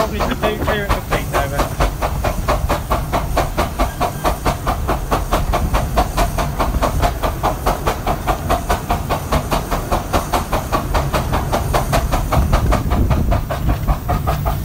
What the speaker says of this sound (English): each chuff from the chimney is one cylinder full of exhaust steam